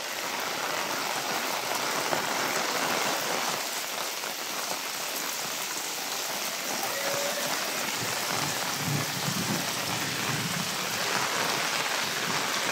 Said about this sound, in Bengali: এত পরিমাণে বৃষ্টি হচ্ছে যা কল্পনা করতে পারবেন না আপনারা